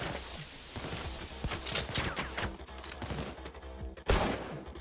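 Rapid automatic gunfire in the video game Payday 2 fires in dense, continuous bursts of overlapping cracks, ending in one heavier, louder blast near the end.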